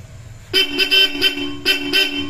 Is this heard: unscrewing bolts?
no